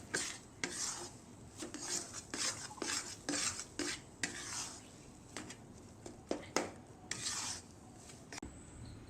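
Ladoo flour is dry-roasted in a pan and stirred over and over with a spoon, making quiet repeated scraping and rubbing strokes in an irregular rhythm with no strong sizzle.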